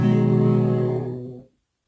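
The Super Mario Bros video game jump sound pitched two octaves lower becomes a deep, buzzy synthetic tone, heard once for about a second and a half before cutting off to silence.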